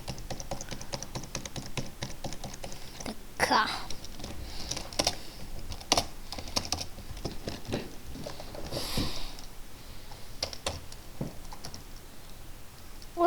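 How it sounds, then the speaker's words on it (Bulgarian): A computer keyboard key is tapped over and over in quick, uneven clicks, fairly close, with a short spoken word partway through. "Може да чуете как помпя копчето."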